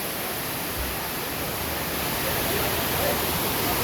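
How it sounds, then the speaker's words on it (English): Water pours down from the hills at Baba Budangiri in Chikmagalur, Karnataka, a steady broad rushing hiss that stays even and close throughout. "The water is going down"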